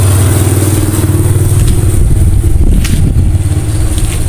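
A modified motorcycle engine, set up with a Monel Big Game exhaust, revving hard during a power test, a loud, close, continuous buzzing roar that holds high with slight surges and no talking.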